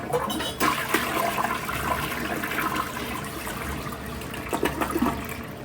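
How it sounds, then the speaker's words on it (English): A Pro Flow toilet flushes in a hotel bathroom at a Microtel in Princeton, West Virginia, with a steady loud rush of water that runs throughout without fading. "we're going to make sure it flushes okay"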